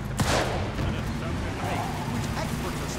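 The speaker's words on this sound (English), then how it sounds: "Can they not see the people shooting at me?" Gunfire from a shootout in Mafia 2 Definitive Edition, a sharp burst up front followed by a steady dense rumble of shots and game noise for the whole stretch, with a voice talking over it.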